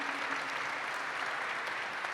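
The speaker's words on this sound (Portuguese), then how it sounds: "Queria, inclusive, pedir uma salva de palmas para Matsuda-san" Audience applause for an honoured guest at a formal ceremonial session marking Brazil–Japan friendship year, steady and even, fairly faint and distant throughout.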